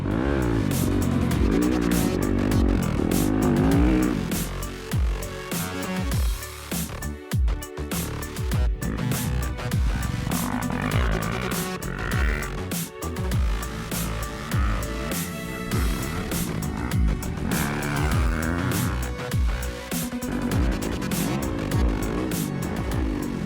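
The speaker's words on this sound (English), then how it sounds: "I've just been out riding the 2020 250FX" A 2020 Yamaha YZ250FX dirt bike is ridden, its engine droning loudly and continuously with repeated revving rises and falls over the whole stretch, with no talk.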